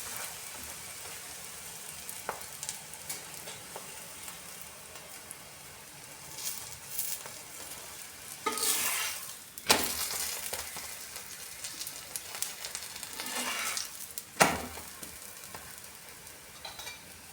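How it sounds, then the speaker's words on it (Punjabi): A green coriander paratha cooks on a hot griddle with a steady low sizzle, broken by a few sharp scraping and crackling bursts as it is flipped and pressed. "ਪਲਟ ਪਲਟ ਕਰਕੇ ਪਰੌਂਠੇ ਨੂੰ ਅਸੀਂ ਸੇਕ ਲੈਣੇ ਆ"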